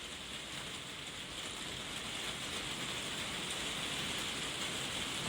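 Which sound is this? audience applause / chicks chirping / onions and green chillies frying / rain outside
rain outside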